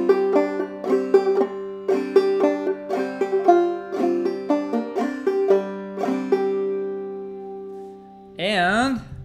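Clawhammer banjo playing the Cluck Old Hen tune, a clear plucked melody with bright repeated brush-thumb strums in a steady rhythm, fading out before a brief voice at the end.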